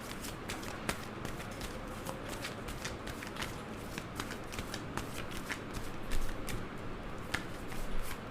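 Tarot cards shuffled and handled on a table, a steady run of soft papery flicks and slides lasting several seconds, close and alone without talk.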